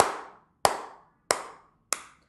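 Four sharp, evenly spaced synchronized claps ring out alone, each a crisp loud hit with a short reverberant tail decaying into silence before the next.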